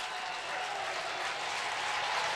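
Crowd at a 2009 college football game between Cal Poly and North Dakota, a steady broad roar of cheering that holds evenly loud throughout, with no distinct voices standing out.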